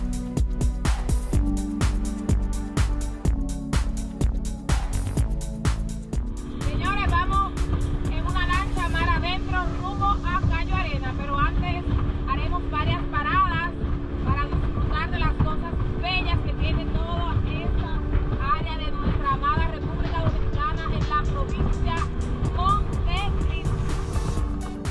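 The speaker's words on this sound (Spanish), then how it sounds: "nos dispusimos a tomar una lancha rápida hasta nuestro destino." Steady engine drone of a speedboat motor running continuously near Cayo Arena, Dominican Republic, with wind buffeting and music playing over it throughout.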